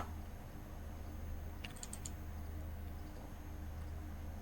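Someone types on a computer keyboard, giving a brief soft burst of key clicks over a steady low hum in a quiet room.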